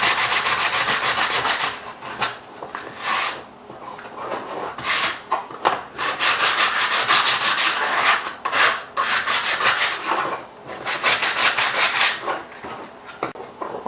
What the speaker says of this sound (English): So I'm going to go ahead and sand them.